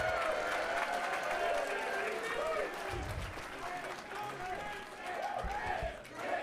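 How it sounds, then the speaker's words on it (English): Wrestling crowd at a live independent wrestling show responding with applause and cheering, a loud sustained roar of clapping and voices filling the room throughout, with a few heavier low thumps partway through. "Insert your applause here."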